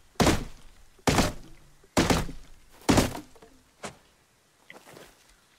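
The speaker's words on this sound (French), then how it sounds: "C'est le son des bûcherons" Four heavy, evenly spaced thunks of an axe chopping a tree in the video game Rust, followed by a couple of fainter knocks, with no talking.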